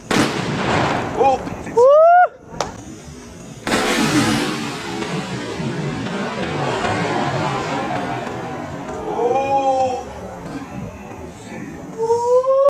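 A Diwali atom bomb firecracker bursts with a sharp, loud bang near the start and another broadband blast around four seconds, followed by lingering crackle and faint voices in the background.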